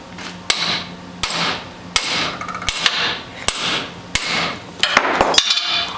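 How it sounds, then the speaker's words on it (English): Repeated hammer blows bash apart a dead battery assembly, about a dozen sharp, loud metallic strikes at an uneven pace, some in quick pairs, with scraping and rattling between hits and no talk. "I get the hammer, I just start digging,"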